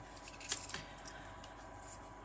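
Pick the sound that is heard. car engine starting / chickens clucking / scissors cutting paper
scissors cutting paper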